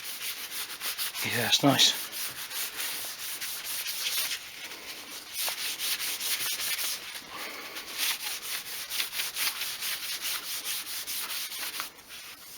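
Cloth buffing an oiled wooden Les Paul guitar neck, a steady close rubbing hiss that runs in repeated strokes throughout, with a brief spoken remark near the start.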